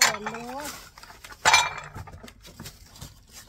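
Plates and dishes clink in a kitchen as they are stacked and counted: a few sharp knocks and rattles, one louder clatter midway, with a voice speaking briefly at the start.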